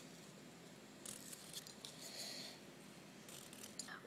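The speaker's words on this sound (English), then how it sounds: "So you just want to cut nice rectangles like that." Scissors snip through paper, cutting neat rectangles for a paper mosaic, in a few short crisp bursts over a steady background hiss.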